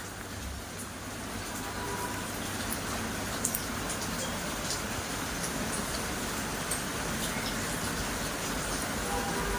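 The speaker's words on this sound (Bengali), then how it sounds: "বৃষ্টি হচ্ছে" Steady rain falling, a constant even hiss with a few faint drips, no voices.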